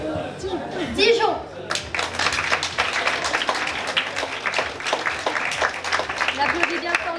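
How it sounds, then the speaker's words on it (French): Audience applause for a contestant at a Miss Mermaid France pageant held at a seaside hotel, sustained clapping of a modest crowd with some individual hands standing out, while a presenter's voice speaks over the start. "On applaudit bien fort Leslie."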